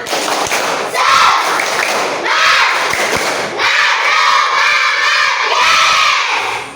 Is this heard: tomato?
no